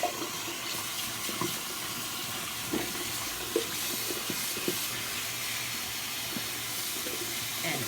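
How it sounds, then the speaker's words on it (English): Tap water runs steadily into a bathroom sink, a continuous broadband hiss and splash with small irregular splashes, moderately close and unbroken throughout, no talking. "I'll let the water get warm."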